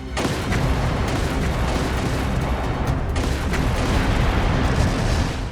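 Dense, continuous rapid gunfire and booming blasts from the video game Trails Through Daybreak II, loud and unbroken throughout, with no talking.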